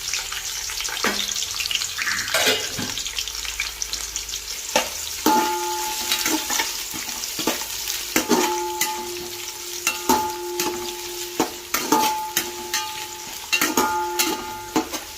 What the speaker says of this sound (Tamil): எல்லாத்தையும் போட்டு நல்லா கலக்கி வச்சுக்கலாம்.